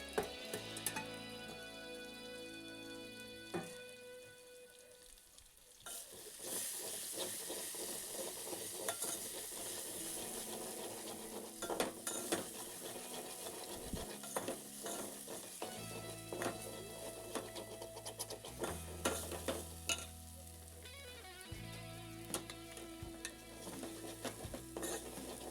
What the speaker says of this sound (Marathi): आलं, लसूण आणि मिरचीची पेस्ट तेलावरती छान गरम करून घ्यायची.